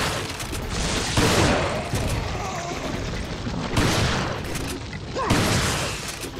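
Heavy, booming shotgun blasts from Resident Evil 4 repeat at irregular intervals over a continuous dense din of game noise, loud and close.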